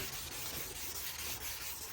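Sandpaper of 800 grit is rubbed by hand over the plastic headlight of a Suzuki Swift, giving a close, continuous scratchy hiss with slight stroke-by-stroke swells.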